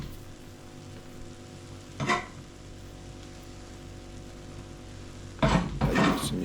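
A spoon scrapes and clinks through a pot as sliced onions and fresh pepper are stirred into boiling cow meat for plantain pepper soup, with brief stirring bursts over a low background hiss.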